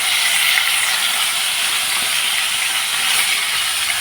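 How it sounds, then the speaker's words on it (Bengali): Fish frying in hot oil for a Bengali koi fish curry, a loud, steady high sizzle and hiss that stays even and continuous throughout with no talking. "তেল গরম হয়ে গেছে, এখন মাছগুলো আমি এক এক করে ছেড়ে দেব।"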